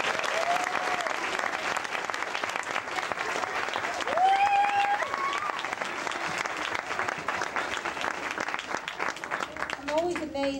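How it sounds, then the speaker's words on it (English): Audience applause following a school concert, sustained dense clapping for about ten seconds, with a few voices and a short whistle-like tone rising above the crowd. "Let's have another round of applause."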